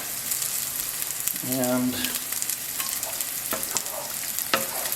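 Milk is stirred into a thick sauce in a pan off the heat, with a continuous soft sizzle and scraping stir sounds up close; a voice speaks briefly near the middle.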